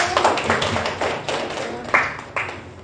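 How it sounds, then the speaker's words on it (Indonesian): A small classroom group claps in brief, loose applause as students go back to their seats, with uneven taps rather than a full ovation. "beri aplaus dulu"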